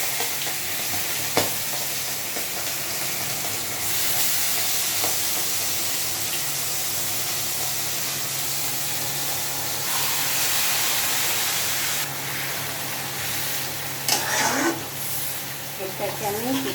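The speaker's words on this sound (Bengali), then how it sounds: "তেল গরম হয়ে গেছে, এখন আমি মেখে রাখা মাংসটা দিয়ে দেবো।" Marinated mutton hits hot oil in a pan, raising a loud, steady hissing sizzle that holds throughout, with a few stirring scrapes near the end and faint talking underneath.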